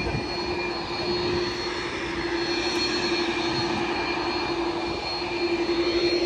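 A helicopter engine runs in a continuous loud whine and roar with a steady high tone, close by and unbroken throughout.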